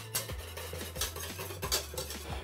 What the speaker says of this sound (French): on remet à chauffer en remuant continuellement jusqu'à ce que le mélange épaississe